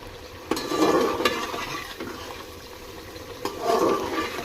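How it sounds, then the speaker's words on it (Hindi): Fresh peas masala for pulao fries and is stirred in a pan, with a soft sizzle and bubbling under a few scraping strokes and knocks of the spoon, close and moderately loud. "इसने ऑयल रिलीज़ करना शुरू कर दिया है तो इसकी भुनाई का"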